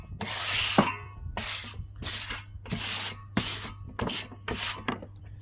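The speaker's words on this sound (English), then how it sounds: "put the trowel flat and make some marks" A trowel is pressed flat and scraped over wet tadelakt plaster in a run of about eight rough, hissing strokes, each roughly half a second long, close and fairly loud against a steady low hum.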